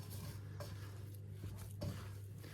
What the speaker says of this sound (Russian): Замешиваем руками